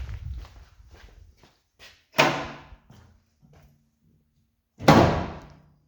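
A car's front driver door is handled: shuffling and light knocks, then a loud close slam, more faint movement, and a second heavy slam later, recorded close in a quiet space.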